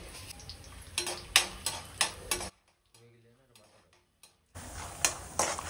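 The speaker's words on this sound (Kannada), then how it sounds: "ಸ್ವಲ್ಪ ಇದು ರೋಸ್ಟ್ ಆಗೋವರೆಗೂ ಹುರಿಬೇಕು" Mustard seeds and cumin frying in a pan while being stirred for Uttar Karnataka susla, with a run of crackling pops and utensil scrapes, a sudden near-silent gap, then the sizzle resuming.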